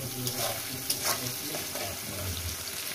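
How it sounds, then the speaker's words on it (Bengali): Sliced onions frying in a pan with a spoonful of salt for chicken kosha, a steady close sizzle with soft stirring scrapes and no voices. "সুন্দর করে লাল লাল করে ভেজে নেব।"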